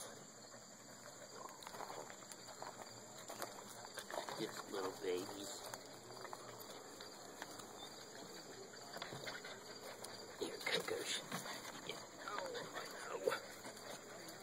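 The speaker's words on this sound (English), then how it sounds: "Baby puppies." Bernese mountain dog puppies whimper and yip faintly in scattered bursts amid soft background noise, with a person talking quietly nearby.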